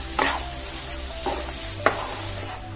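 Paneer bhurji is stirred in a pan on the stove, giving a soft continuous sizzle broken by a few scraping strokes of the spoon against the pan. A low steady hum runs beneath it.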